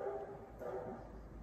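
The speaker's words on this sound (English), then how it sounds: "dogs yelling at me back there somewhere" Dogs barking far off behind a jungle golf-course home in Akumal, heard as faint, muffled yips and barks over a soft background hiss.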